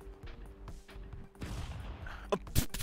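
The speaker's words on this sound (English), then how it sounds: "Those are bombs." Bombs exploding in the stick-figure brawler game Stick Fight, a couple of sharp blasts bursting near the end over a busy background of game noise.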